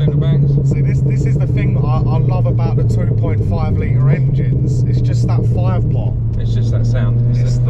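Inside a Ford Focus ST, the 2.5 litre five-cylinder engine drones loud and steady at cruising revs, a constant throaty hum beneath continuous conversation from the occupants.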